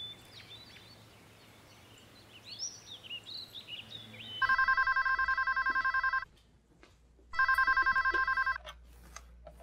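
Birds chirp faintly in the background, then a telephone rings loudly in two long trilling bursts separated by a short pause.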